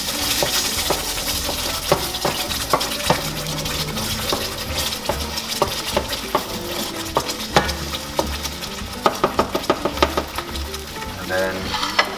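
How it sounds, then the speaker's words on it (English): Spaghetti sauce being stirred in a pan, a steady sizzle under repeated sharp clinks and scrapes of a utensil against the metal, close and fairly loud with no talk. "Mix that around for a bit."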